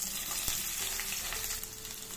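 Onions frying in a pan with a steady, close sizzle running throughout, broadband and even in level, with a faint scrape partway through and no voices.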